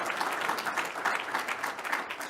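An audience gives dense, continuous applause after a speech at a research showcase plenary session, with a steady crowd clapping wash throughout.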